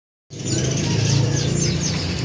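Small caged songbirds chirp and tweet repeatedly in quick, high twitters over a steady background hum, starting abruptly after a moment of silence, at a bird market.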